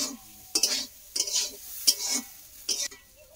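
Vegetable bhaji is stirred in oil in a pan, with about five quiet scraping stirs in an uneven rhythm over a faint, steady sizzle.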